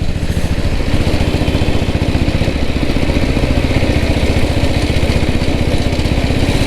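Diesel Royal Enfield Bullet, a vintage motorcycle with a 6.5 hp engine, thumps steadily on a test ride: a loud, close, continuous low chugging with rapid regular beats and mechanical clatter, no talking.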